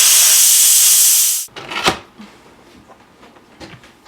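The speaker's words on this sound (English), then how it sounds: "I'm gonna cancel that and quick release" Instant Pot pressure cooker on quick release, a loud continuous hiss of venting steam that cuts off abruptly, followed by quieter clicks and handling knocks.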